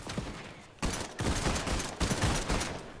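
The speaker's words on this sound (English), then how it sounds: "Where are they shooting from?" Gunfire in the video game Fortnite, loud sustained bursts of rapid shots in two or three volleys with short gaps between them, close and dominant, with no talking.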